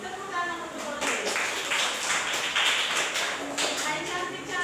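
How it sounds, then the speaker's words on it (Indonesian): A classroom group of students clapping together for a classmate, a short burst of steady hand claps close by with voices mixed in. "Tepuk tangan untuk Olive."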